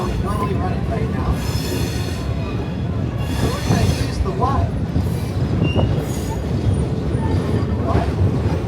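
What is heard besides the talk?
Roaring Camp Railroads train moving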